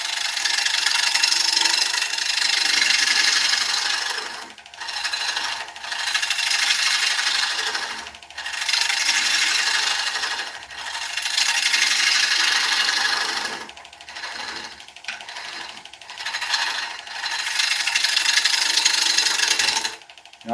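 Oak turning on a lathe, a loud, close, continuous scraping hiss of the tool cutting wood, easing off briefly several times before biting in again, with no voices.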